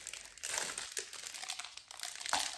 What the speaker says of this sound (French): Je vais l'ouvrir si j'y arrive.